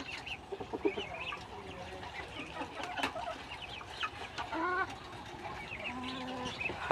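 Chickens cluck and chatter close by in a steady, scattered stream of short calls on a poultry farm, with faint background rustle.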